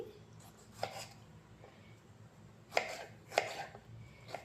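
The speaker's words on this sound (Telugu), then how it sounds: "చింతపండు వాడిన పప్పులోకి ఇలా చిన్నగా కట్ చేసేసుకోవాలి." Vegetables are cut finely on a board for tamarind dal. A few soft, separate knife chops land at uneven intervals against a quiet room background.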